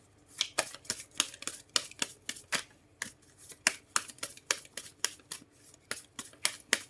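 A deck of oracle cards being shuffled by hand, crisp riffling snaps repeating in a quick, fairly regular rhythm, close and moderately quiet, with no voices.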